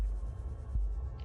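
Heartbeat-like throbbing music in the video game Subnautica, a low pulsing hum with a soft beat, steady and alone.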